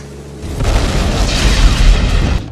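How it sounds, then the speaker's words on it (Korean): A pilot's aircraft explodes in a film scene with a deep, heavy boom that swells and then rumbles for about two seconds before cutting off. "폭발해버린 피트의 기체."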